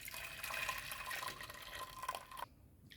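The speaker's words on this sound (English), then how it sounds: "we're going to just pour this in the pot" Liquid pours into a cooking pot for Jamaican coconut dumplings, a steady splashing trickle lasting a couple of seconds before cutting off.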